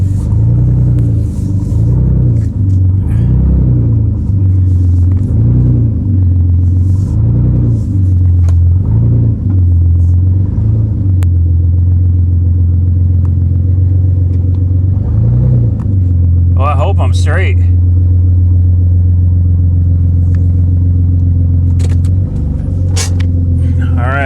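A loud car engine rumbles close by while the car is loaded onto a trailer, a deep steady idle with pulsing surges, and someone talks briefly over it.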